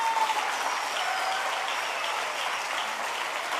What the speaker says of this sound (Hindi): तालियां नहीं रुकनी चाहिए।